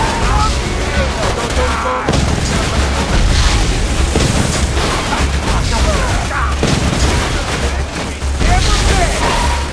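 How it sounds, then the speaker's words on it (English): Dense, continuous gunfire and explosive booms from a Borderlands 2 co-op firefight, loud and busy from start to finish with a steady low rumble beneath. "Now we have people shooting."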